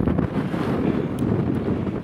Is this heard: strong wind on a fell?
yes